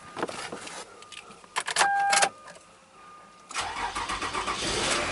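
A Toyota Highlander with a weak battery and charging-system trouble cranks in short uneven bursts, then catches and settles into a close, steady idle.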